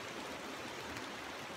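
Rushing water of the Virgin River in Zion National Park, Utah, a steady broadband wash of current flowing at moderate distance, continuous and even with no voices.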